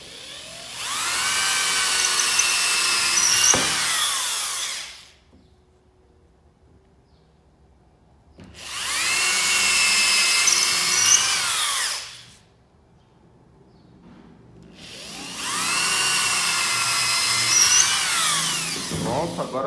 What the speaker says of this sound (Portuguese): Põe certinho a broca onde você quer. Tenta furar a reta, é meio difícil